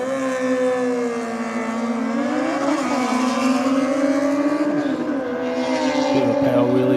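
A street bike power-wheelies off the line at a no-prep drag race in Australia, its engine a loud, sustained high-revving wail that climbs through the gears, heard from trackside.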